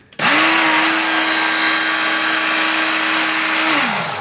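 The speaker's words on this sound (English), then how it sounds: "this is the work sharp knife and tool sharpener" A Work Sharp powered knife and tool sharpener spins up to a steady, loud belt whine while a knife is drawn through its 20-degree guide, holding an even pitch for several seconds before winding down.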